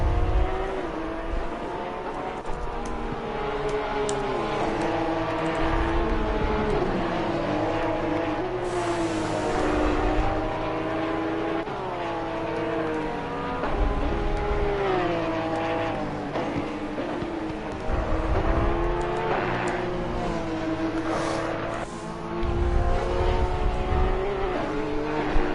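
Race cars lap in Assetto Corsa Competizione with loud, continuous engine drones. Pitch rises and falls through gear changes and corners while several cars overlap, and the roar stays up close and steady throughout.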